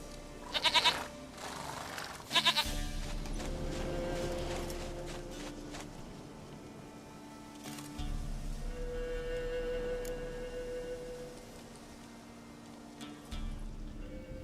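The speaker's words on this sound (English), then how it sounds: "Goat of mine, dearest," Goat bleats in The Witcher 3, two short sharp calls near the start over a low ambient game drone and faint hoof clops, at moderate distance.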